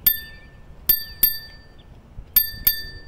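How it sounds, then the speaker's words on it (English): A little bell on an Slsy & Mooncool adult tricycle rings five sharp, close dings, spaced unevenly with each ring lingering briefly, over faint outdoor background noise. "I failed to mention that this bike also has a little bell."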